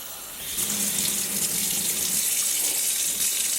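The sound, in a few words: tap water rinsing dyed yarn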